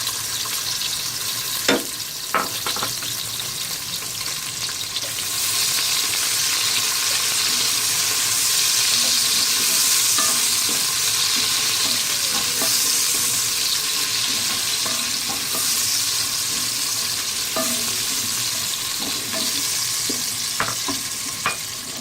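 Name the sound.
chopped onions frying in oil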